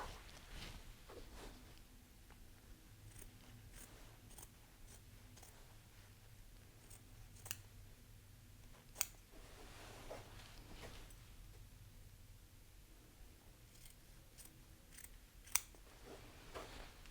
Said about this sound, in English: we're going to do that by cutting the seam allowance of the fused lapel in half